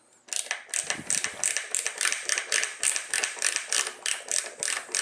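Gorilla insulated ratchet screwdriver turned clockwise, giving steady, close, rhythmic ratcheting clicks with a metallic edge in repeated quick strokes for about five seconds, with no talk.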